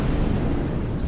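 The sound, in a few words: explosion of a destroyed ship in a video game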